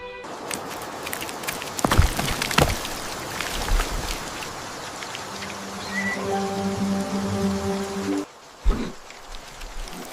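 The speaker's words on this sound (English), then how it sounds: "Rain." Steady rain patters throughout as a sound effect for a fairy-tale narration, with scattered louder drops and a soft sustained musical tone entering near the end.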